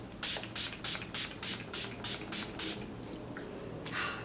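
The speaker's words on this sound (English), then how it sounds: "I'm just going to spritz my face with the Urban Decay All Nighter Spray once more" Eight quick hissing spritzes of Urban Decay All Nighter setting spray onto a face in a steady rhythm, followed by a few fainter bursts, close and with no talking.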